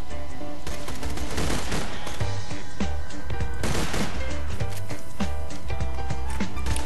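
A burst-fire gun in Borderlands 2 rattles off in dense, loud volleys of rapid shots that barely pause, layered over constant game noise and thumping low impacts.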